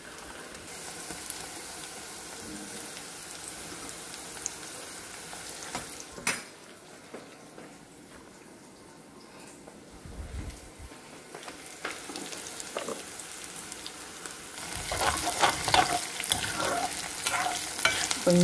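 Crushed garlic frying in hot oil for a tempering, with a steady close sizzle and scattered scrapes and clinks of a spoon stirring in the pan, growing louder and busier toward the end.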